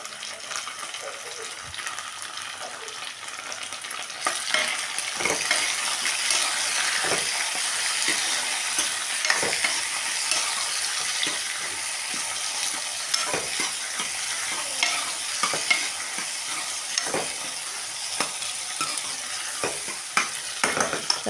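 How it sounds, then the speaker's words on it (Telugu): Tomatoes fry in a pan while being stirred, making a steady close sizzle with regular scraping stir strokes throughout, loud and continuous with no talking. "టమాటాలు కూడా అయితే వేసుకుంటున్నాను"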